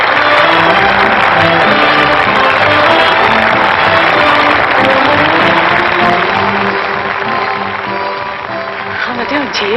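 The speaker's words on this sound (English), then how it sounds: "That noise is applause, isn't it?" Audience applause in a 1939 film scene: a dense, continuous roar of clapping from a large crowd that fills the whole stretch, loud and sustained, with voices mixed in underneath.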